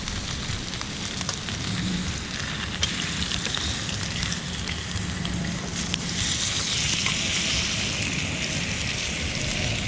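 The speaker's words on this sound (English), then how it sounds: "listen to that sizzle" Steady, dense crackling sizzle of ribeye steak searing on a hot grill, continuous and close, with no talking over it.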